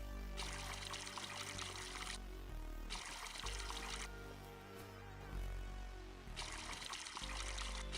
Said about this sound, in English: let's water our garden.